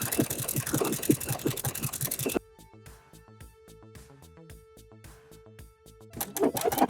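A sewing machine runs a stretch-stitch seam through sweater knit fabric, a rapid even mechanical chatter at close range, with louder handling noise at the start and end.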